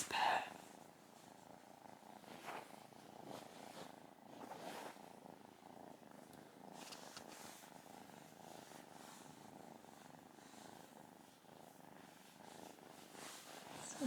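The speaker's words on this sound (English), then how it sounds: "You got the loudest purr." A kitten purrs softly and continuously close by, with rough rhythmic rumbling and a few quiet stirs in the room.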